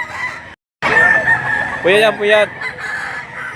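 Chickens and roosters at a poultry market in Lipa City, Batangas, cluck nearby while a rooster gives two short crows. Someone speaks briefly among them.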